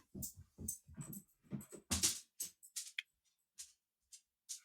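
A dog whimpers and whines in short, broken bursts, close and fairly quiet, with brief silences between the cries.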